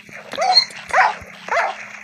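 A dog in the Lokicraft video game barks three times in quick succession, each bark sharp and close with a slight whimpering edge, over a faint steady hum.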